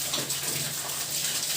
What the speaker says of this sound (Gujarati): જણ જણ જણ કરતા ઝરણા વહી રહ્યા છે. ઝરણાનો અવાજ આપણને કાને પડી રહ્યો છે મધુરો.